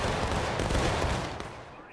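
A musket volley in the Civil War video game War of Rights bursts as a dense, loud crackle of many shots firing almost together, rolling into a sustained roar that slowly fades over two seconds.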